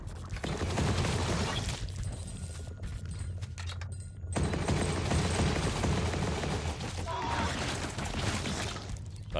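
Rapid, mashed cannon fire from the indie Metroidvania game Ghost Song, as dense continuous bursts of blasts and crashing impacts, loud and steady across the whole stretch.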